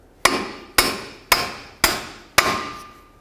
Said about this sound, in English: You can use a hammer or whatever you might happen to have.